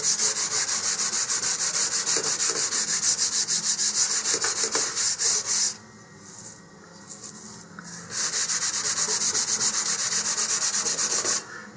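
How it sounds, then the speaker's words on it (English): A wooden part for an Estes Olympus model rocket is hand-sanded with a loose sheet of sandpaper: steady, rapid scratchy strokes, close and loud, pausing for about two seconds before the rubbing picks up again. "you can just do this with a sheet of sandpaper in your hand"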